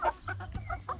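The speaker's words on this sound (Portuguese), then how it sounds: "As frangas GSB aqui misturado com as de pescoço pelado." GSB pullets mixed with naked-neck hens cluck close by in a farm flock, giving a run of short, irregular clucks and soft calls with no talk over them.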